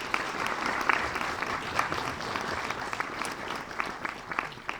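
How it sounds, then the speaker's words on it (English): A conference audience at a leadership session applauds an audience member who has just stood up, dense continuous clapping with scattered sharper claps, fairly close and sustained for the whole stretch. "Give her a round of applause."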